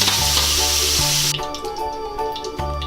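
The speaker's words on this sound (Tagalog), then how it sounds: "igigisa ko itong carrots" Carrots sauté in a hot pan (kawali) for salmon adobo prep, a loud steady sizzle that cuts off abruptly partway through, followed by quieter frying with faint clinks and low hum.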